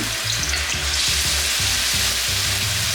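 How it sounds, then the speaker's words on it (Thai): Garlic stir-frying in a pot until golden for Thai fried catfish with salt and chili, a steady loud sizzle with oil crackle and rhythmic stirring scrapes, no talking. "ตั้งหม้อนะคะนำกระเทียมไปผัดจนเหลือง"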